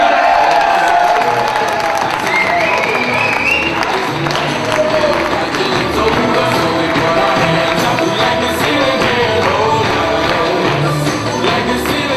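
A slam poetry competition crowd bursts into loud, sustained applause and cheering for a poet, with whoops and shouts, including children's voices, riding on top of the continuous clapping.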